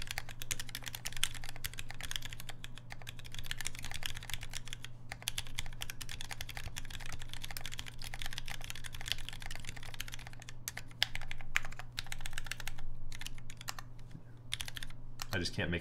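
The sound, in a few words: typing on Fjell keyboard with Gateron Tangerine switches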